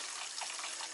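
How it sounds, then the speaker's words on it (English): Cold water runs steadily from the kitchen sink faucet of a travel trailer during de-winterizing, a continuous close hiss of flowing water with no break. "So there's cold water on the kitchen sink, and it's running out pink, which is good."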